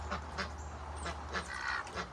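Ducks on a farm quacking several times at irregular intervals, moderately close but fairly quiet, over a low background hum and without speech.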